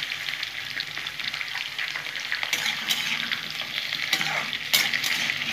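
Drumstick flowers (sajne phool) fry in a pan with a steady close sizzle, while a spatula stirs and scrapes through them in several sharp bursts.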